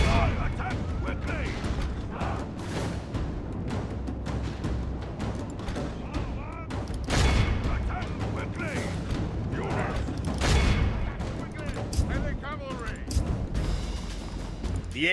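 Dense gunfire and booming rolls on through a Medieval 2 video game battle, steady crackling volleys with a few louder bursts, and a voice talks over it at times.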